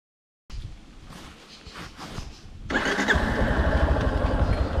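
A motorcycle engine cranks and catches, then settles into a steady, rumbling idle close by, heard during a ride through the cerrado with no talk over it.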